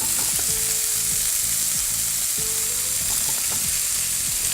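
Onion sizzles and fries in hot chili paste for a crab curry, a steady close hiss with soft stirring scrapes and clicks throughout.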